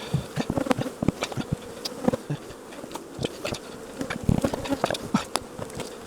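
Honey bee colony buzzing steadily during an open hive inspection, a dense close swarm hum with individual bees zipping past loudly, plus irregular knocks and clatters of frames being handled.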